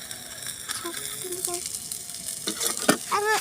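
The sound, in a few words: curry sizzling in a pan while being stirred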